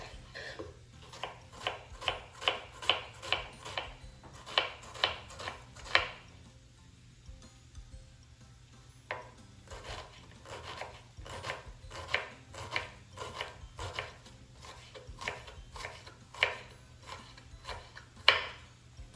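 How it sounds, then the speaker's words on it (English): Rapid knife strokes chop an onion on a board for chilaquiles, coming in quick rhythmic bursts with a short pause midway, close and crisp, with no talking. "now I'm gonna chop the onion"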